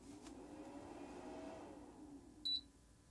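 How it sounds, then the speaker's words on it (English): A low, steady hum from the cooling fan of an Enginstar 300W portable power station runs quietly throughout, then a single short, high-pitched beep sounds near the end. "You heard a fan and a beep."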